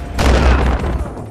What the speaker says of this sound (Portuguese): morteiro!